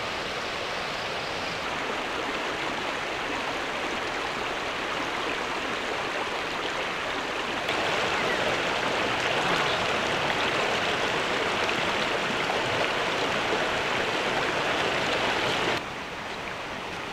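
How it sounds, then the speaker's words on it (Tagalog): A river stream flows steadily nearby in an outdoor camping setting, a continuous broad rushing hiss that swells slightly midway, with no voices. "Yung ilog, sarap pagmasdan."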